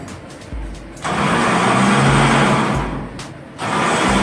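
A loud mechanical whirring drone starts and runs steadily, briefly pauses, then resumes: an electric winch close by, lowering a Mitsubishi Pajero on a cable.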